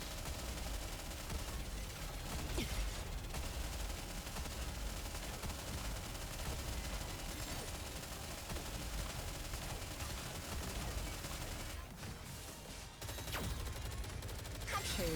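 Volley of gunfire in the mobile shooter game Nikke, a dense continuous roar of rapid shots with sharper bursts near the end, loud and close, with faint voice lines underneath.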